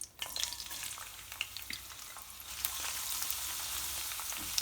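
Food sizzles and crackles steadily in a hot pan, close and continuous, with scattered pops and spatters, no voices. Finely chopped garlic is being cooked for a chicken and potato curry.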